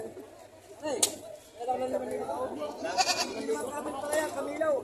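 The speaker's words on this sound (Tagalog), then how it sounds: "Kakaibang kambing o, kakaibang kambing." A goat bleats several times close by, wavering cries rising and falling, with people talking and rustling around it.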